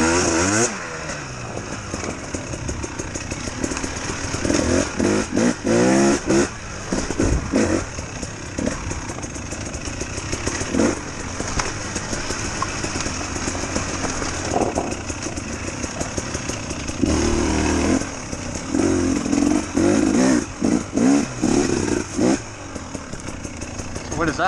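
A 2018 KTM 300XC-W two-stroke dirt bike engine during a demo ride, running loud and continuous with repeated revving surges and throttle changes.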